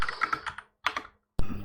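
Quick bursts of computer keyboard typing, a run of close clicky keystrokes, a pause, a few more taps, then a sharper clack; no voices.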